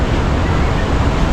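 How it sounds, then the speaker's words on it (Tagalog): Strong wind and sea waves at Bucana, a loud continuous roar of gusts and surf buffeting close to the microphone. "malakas pa rin yung yung hangin"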